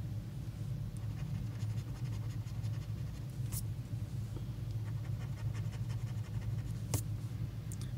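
A coin scratches at a $10 Cashword lottery scratch-off ticket, soft dry rasping strokes repeating close by over a low steady background hum, with a couple of sharper scrapes.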